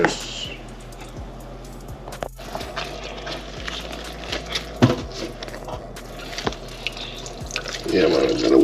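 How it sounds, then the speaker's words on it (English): A kitchen tap runs steadily into a sink while raw chicken is washed, with water splashing and dripping against occasional soft knocks and brief sounds of someone moving about. "Yeah man, I'm gonna wash the chicken."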